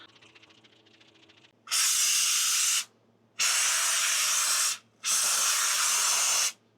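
Three loud bursts of hissing aerosol spray, each about a second long, separated by short pauses in an otherwise quiet room.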